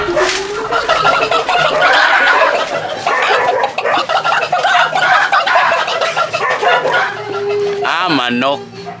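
A hen clucks and cackles right after laying an egg, loud and close, with repeated squawking calls mixed among excited voices talking and laughing nearby.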